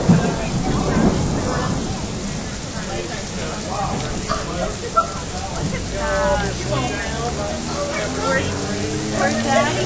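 Heavy thunderstorm rain pours down at a Target store in Medford, Oregon, a steady loud wash of rain throughout with people talking over it.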